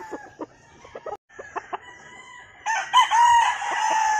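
A brood cock, a pure Kelso gamefowl, crows loudly and close by near the end, after a few scattered clucks and short calls. No one talks over it.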